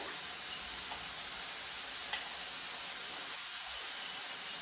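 Minced pork with garlic and green onion cooks in a pan, giving a faint, steady sizzle and hiss throughout, with one brief clink near the middle.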